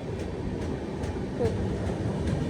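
A train runs on the tracks in hilly tunnel country while racing another train, a quiet, distant steady rumble with faint, regularly spaced clacks.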